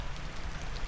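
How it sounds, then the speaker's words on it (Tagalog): Rain and strong wind from a storm make a steady hiss of falling drops and blowing air over one short second, broad and continuous with no voices. "parang bagyo yung hangin at ulan ngayon"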